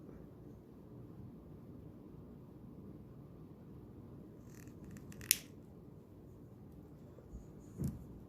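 Wire cutters snip jewelry wire while making small heart birthstone earrings, giving one sharp, crisp click near the middle and a softer tap shortly after, close up against a quiet, hissy background.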